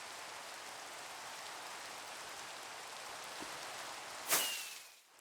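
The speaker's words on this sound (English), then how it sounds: "Why is it always raining?" Steady rain falls throughout a Minecraft world, a constant soft hiss that fills the scene, broken near the end by a brief sharper splash or swipe before fading.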